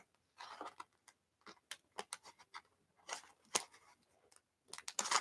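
Crisp snips of scissors cutting, a run of short sharp clicks and slices in irregular bursts, close by with quiet gaps between.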